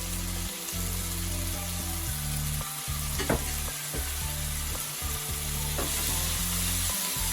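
Garlic paste sizzles and fries as it caramelizes in a hot pan, a steady crackling hiss with occasional stirring scrapes and clacks, close and continuous without talk.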